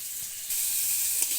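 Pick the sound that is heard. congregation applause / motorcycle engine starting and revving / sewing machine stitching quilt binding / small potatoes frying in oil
small potatoes frying in oil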